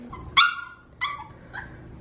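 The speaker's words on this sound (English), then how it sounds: "If any of you have tips about how to make your dog stop barking, I need help" A pet dog barks three times in short, loud bursts spaced about half a second apart, with softer whimpering whines between and after the barks, close to the microphone in an indoor room.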